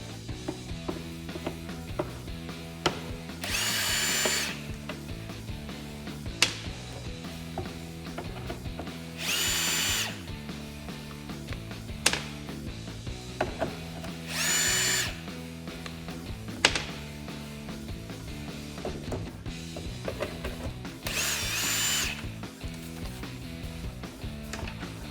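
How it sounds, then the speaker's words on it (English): A power drill backs out the four screws holding a 2004-2014 Ford F150 side mirror, in several short whirring bursts spaced a few seconds apart, with a steady hum between them. "we're going to come in here and take our 4 screws off next"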